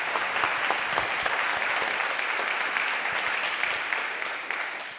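An audience applauds at a live conversation event, dense, steady clapping that holds strong and then fades slightly toward the end.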